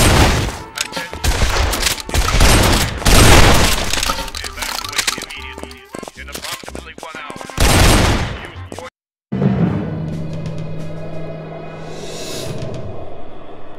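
Rapid bursts of gunfire from Guns, Gore & Cannoli rattle loud and close in repeated volleys, then cut to a brief silence before quieter game sounds resume.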